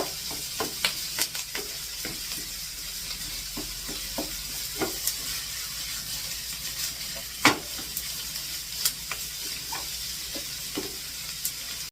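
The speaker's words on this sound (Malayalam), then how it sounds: "ഇതിൻ്റെ പച്ചമണം മാറുന്നിടം വരെ നമ്മൾ ഇളക്കിക്കൊണ്ടിരിക്കണം" Masala for Kerala beef fry sizzles in a pan while a spoon stirs it, making repeated sharp scrapes and taps over a steady crackle of frying. It is close, with no voices.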